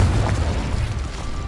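A Confringo explosion spell goes off in Hogwarts Legacy, a short deep boom with a rumbling tail that dies away.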